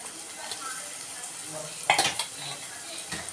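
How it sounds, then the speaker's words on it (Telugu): Thinly sliced onions frying in a pan on the stove, a steady soft sizzle with a brief clatter of utensils and stirring midway. "ఉల్లిపాయలు వేస్తున్నాను."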